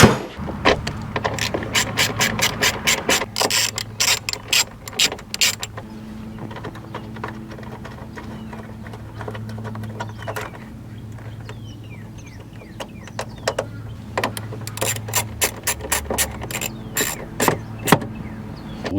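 Ratchet with a 10 mm socket clicking in fast, close bursts while a brake controller is installed in a Toyota Tundra, with quieter pauses between rounds of cranking.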